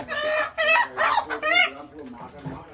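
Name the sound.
village chickens clucking while being caught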